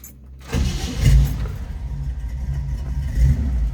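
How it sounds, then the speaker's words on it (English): A 1970 Chevrolet C10 half-ton pickup with a 350 V8 cranks briefly and fires right up, settling into a loud, steady, rumbling idle close by with a slight rev near the end. "See how easy that 350 fires right up."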